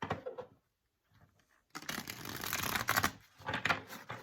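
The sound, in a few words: shuffling tarot cards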